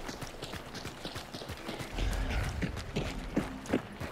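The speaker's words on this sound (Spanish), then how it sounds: "eso es un caballo vivo, tú" Horse hooves clip-clopping at a gallop in the online shooter game Hunt: Showdown, a steady rhythmic patter at moderate distance with a few sharper hoof strikes near the end.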